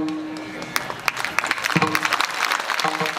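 Clapping from a kirtan audience at a public gathering, beginning with a few scattered claps and building into dense, continuous applause with a bit of crowd murmur.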